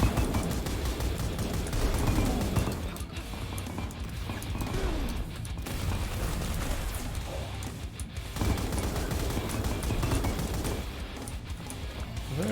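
Mobile sentry turrets in the shooter Nightmare Reaper blast away in dense, continuous volleys, loud and close, layered with game music and crashing impacts.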